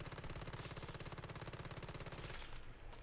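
Rapid sustained automatic fire from an MP7 in the game Once Human, a dense steady rattle of shots lasting a few seconds before cutting off, loud and alone with no talk.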